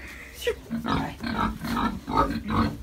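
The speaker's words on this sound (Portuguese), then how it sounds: "Rizal, só os porcos vão viajar" Pigs grunting and oinking in a repeated series of rough, close, fairly loud bursts while being loaded for transport on a farm, with someone speaking briefly now and then.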